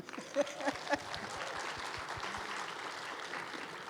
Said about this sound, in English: Y'all have to clap for him.